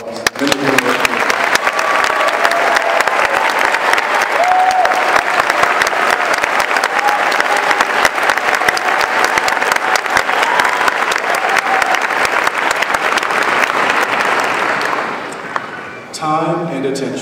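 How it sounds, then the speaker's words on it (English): A graduation ceremony crowd applauds the staff standing before them, a long, loud, even wash of clapping that holds steady before fading near the end, where a speaker's voice returns. "I ask that this group of dedicated and talented professionals please stand for a round of applause."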